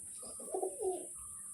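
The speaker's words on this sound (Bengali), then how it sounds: "আমার বাড়ির পায়রাগুলো এদিক ওদিক ছড়িয়ে ছিটিয়ে রয়েছে" Soft, low pigeon coos, two or three short rounded calls close by against a quiet background with a steady high hiss.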